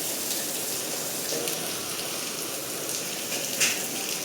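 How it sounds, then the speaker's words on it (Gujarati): Rain falling steadily, an even hiss of drops on surfaces with a faint tap near the end, no voices. "હજી વરસાદ આવવા માંડ્યો ફૂલ"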